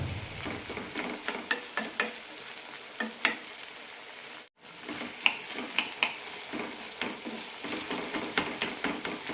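Tomatoes sauté in a pan for urad dal chutney with a close, steady sizzle. Repeated spatula scrapes and clicks keep a fairly regular rhythm, broken by one brief silent gap midway.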